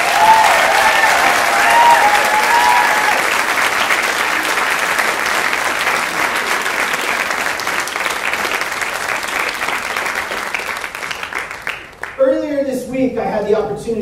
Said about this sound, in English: Can we please give them a warm round of applause?